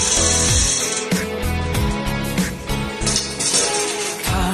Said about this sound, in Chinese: 接下来给衣柜框架钻几个安装孔